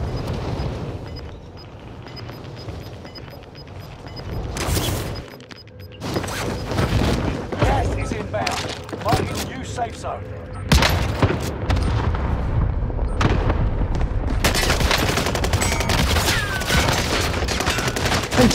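Video game gunfire rattles in bursts and rapid volleys, loud and close, mixed with booms and mechanical clatter over about eighteen seconds, growing denser toward the end, with no voices heard.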